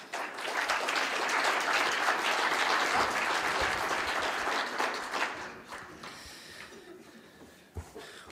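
Applause from an audience welcoming the mayor to a State of the City address in Lebanon, Indiana, sustained and moderately loud before thinning out into a few last claps.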